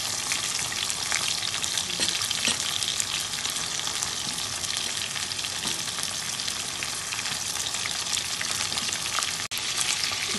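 Onions are added to a pan where fish has been frying, and they crackle in a dense, continuous sizzle with faint stirring scrapes, close and loud throughout with no voices.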